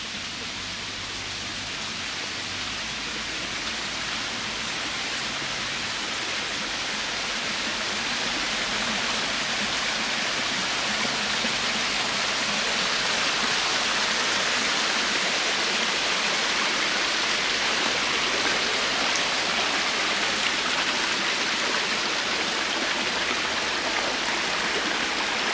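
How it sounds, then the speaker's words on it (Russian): A small waterfall on a canal in Peterhof's Meadow Park babbles steadily, a continuous rushing, splashing wash of water that grows slightly louder and then holds even, with no voices. "Журчит водопадик."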